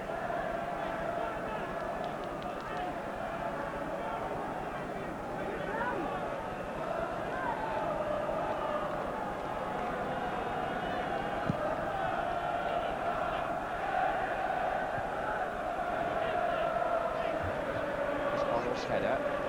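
Large football crowd at the 1982 FA Cup Final between Spurs and QPR, a steady distant roar and murmur of thousands of voices filling the stadium throughout, with no clear peaks of cheering.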